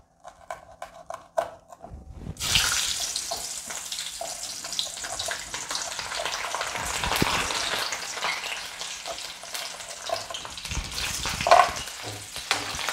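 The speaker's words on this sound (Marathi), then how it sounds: "आता आपण मिरच्या ह्या तळून घेऊया" Green chilies, slit down the middle, fry in hot oil, a loud steady sizzle starting abruptly after a quiet moment and continuing throughout with occasional stirring clinks, no talking.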